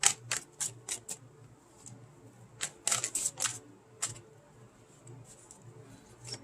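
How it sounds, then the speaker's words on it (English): Tarot cards are reshuffled by hand, producing a series of crisp, snappy riffling bursts in irregular clusters, close and fairly quiet, with short pauses between shuffles. "We're going to have to reshuffle."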